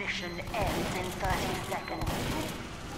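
Gunfire from Team Fortress 2 crackles in quick bursts of shots and thuds layered over busy game action, with voices talking over the shooting throughout.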